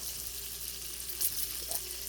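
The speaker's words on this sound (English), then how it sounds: "Can you guys hear the sizzle of the pork chop?" A pork chop sizzles in a frying pan as a steady, faint hiss with a few small pops, fairly quiet and continuous.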